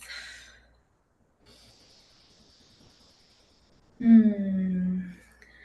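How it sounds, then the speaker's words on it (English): A person takes a deep breath in a quiet room, a soft inhale followed by a long audible sigh of an exhale, close and alone. "Go ahead and take a deep breath."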